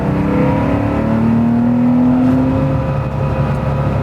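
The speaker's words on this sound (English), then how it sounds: "I do love the way those PMO ITB stacks sound on this car" Modified early Porsche 911 engine fitted with PMO ITB intake stacks revs steadily and loudly, a continuous close hot-rod drone with a rising pitch sweep midway, no voices over it.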